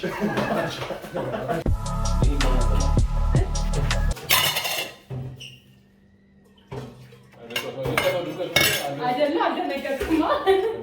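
Dishes and pots clatter and clink loudly in a sink, with running water and brief voices, then a quiet pause before more clattering.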